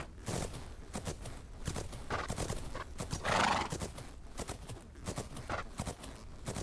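Horse hooves pounding in quick galloping beats in a video game, with jump landings and a whinny, loud and close with no talk.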